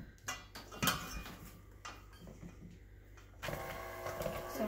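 A utensil clinks and scrapes against a bowl while mascarpone cheesecake filling is mixed, with scattered close taps giving way to a steadier stirring sound near the end; nobody talks.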